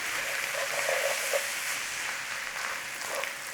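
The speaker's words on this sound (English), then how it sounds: "Give it a little stir through." Beef in a pan with Worcester sauce, onion powder, garlic powder and paprika, stirred gently through; a steady sizzle and hiss runs throughout with faint soft scraping of the stir.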